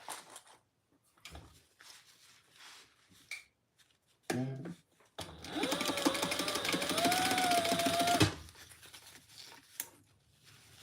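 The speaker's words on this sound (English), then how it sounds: "let's sew down the sides" Sewing machine stitching down the sides of a bag, one sustained whirring run of about three seconds with a rising motor tone, preceded by scattered handling clicks and thumps of fabric.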